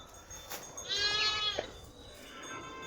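Goats and lambs on a farm bleat, with one clear wavering bleat in the middle over quiet outdoor background and a faint knock.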